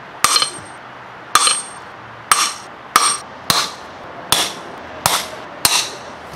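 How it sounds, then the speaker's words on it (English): Eight sharp metallic hammer blows ring out on a steel impact socket while knocking out a Mercedes W123 ball joint, spaced roughly a second apart, each clang loud and close with a brief ringing tail. "we're gonna use a big hammer and we're gonna hit this and knock it out."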